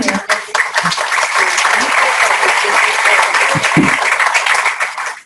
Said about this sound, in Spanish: Bienvenido, doctor. Fuertes aplausos.